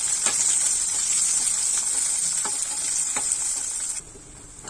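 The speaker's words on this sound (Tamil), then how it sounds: "நறுக்கி சின்ன வெங்காயம் சேர்த்து நல்லா நல்லா வதக்கி விட்டுக்கலாம்" Steady, close sizzling of food frying in hot oil, with a few light stirring clicks, dropping noticeably quieter near the end.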